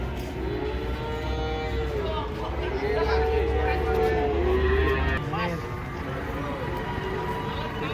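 Giant cattle moo while being unloaded from a truck, deep drawn-out bellows rising and falling near and loud over a steady low engine rumble, with people talking in the background.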